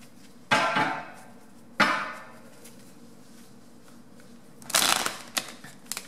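Tarot cards shuffled in three brief, rustling riffles, with the deck mixed up and hard to shuffle, followed by a few light taps, close by in a quiet room.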